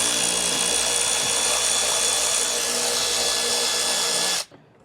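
Power tool whirring steadily and loudly up close as it loosens a plastic taillight bolt on a 2022 Jeep Wrangler, then stopping abruptly near the end.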